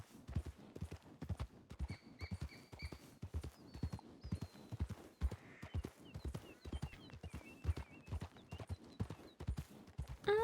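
A horse in the WildRP video game clip-clops along at a steady walking rhythm, hooves close and distinct, with a brief whinny and faint ambient bird calls.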